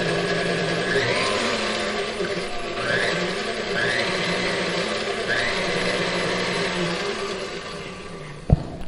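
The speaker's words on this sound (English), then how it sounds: "So now I'm just going to get these 3 ingredients mixed up some before adding in everything else." Three ingredients for strawberry dog pancakes churned together by an electric mixer, a steady whirring drone with a few rhythmic swells, loud and close, ending in a brief clunk near the end.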